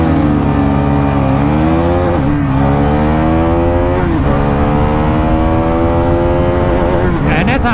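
A Guerrilla 450 or NS400Z motorcycle revving hard to high RPM, loud and close, its engine pitch climbing and dipping in repeated sweeps with a sharp blip toward the end.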